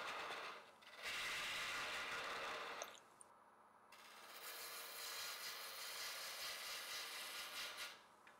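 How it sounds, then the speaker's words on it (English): A diamond parting tool cuts a tenon on a Banksia seed pod spinning on a lathe, giving a harsh scraping, rasping whine in several close bursts separated by brief pauses, with no talk. "now I'm going to take my diamond parting tool and establish a tenon on each end"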